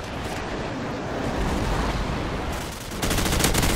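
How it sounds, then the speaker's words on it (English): Continuous automatic gunfire from the Call of Duty video game, a dense, unbroken roar of rapid shots mixed with broad noise that swells louder near the end, with no talk over it. "Rounds? 2 minutes of continuous fire? I approve."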